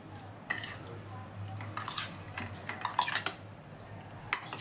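Papaya pieces being mixed in a bowl for a tutti-frutti recipe, with a steady run of light clinks and scrapes of a utensil against the bowl, close and moderately loud, with no talking.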